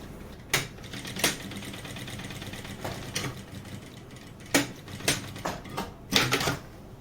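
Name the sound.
sewing machine stitching a seam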